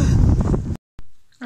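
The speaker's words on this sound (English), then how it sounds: "now it's freezing cold and windy and kind of feels like snow" Wind buffeting a microphone outdoors on a cold, windy day, a loud rumbling roar that cuts off abruptly, leaving near silence with a brief thump and a faint return of gusting at the end.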